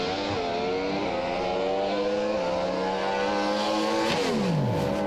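A race car screams down a straight at about 294 km/h, its engine whine loud and continuous with pitch steps at each gear change and a falling sweep near the end.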